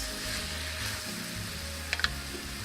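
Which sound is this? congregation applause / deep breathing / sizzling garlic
sizzling garlic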